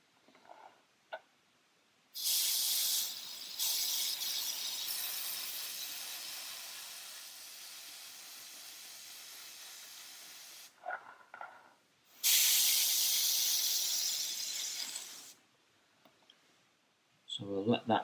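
Airbrush spraying paint onto parts of a Tamiya 1/350 Mogami cruiser model, two long steady hissing bursts separated by short pauses and faint clicks, fairly quiet and close.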